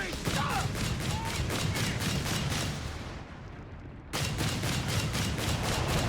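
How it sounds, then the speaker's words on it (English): Artillery barrage in the Company of Heroes 3 video game, as Allied forces shell German positions: dense, continuous booming and rapid impacts roll without pause, briefly dipping before the heavy bombardment surges back at full strength. "And we got artillery called in return here on the Germans."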